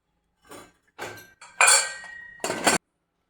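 Metal clanks and clinks as a plate is set over a rava cake and a pressure cooker lid is closed, a few separate bumps ending in two louder ringing clatters, with no talking.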